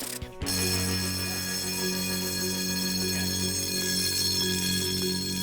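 An alarm bell rings continuously and loudly nearby with a bright metallic clatter, starting with a brief jolt and then holding steady without any talk.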